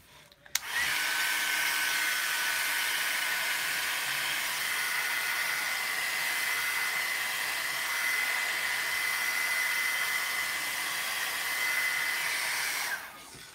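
A hair dryer used as a heat dryer blows steadily over chalk paste on a craft project, a loud continuous airy whoosh with a high whine that runs almost unbroken for about twelve seconds before cutting off.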